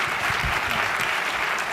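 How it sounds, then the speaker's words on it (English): Conference audience applauding after a keynote presentation by Tom Conrad of Pandora, a full, even wash of clapping from a large lunch crowd. "why don't we start by giving Tom a big round of applause for a fabulous presentation"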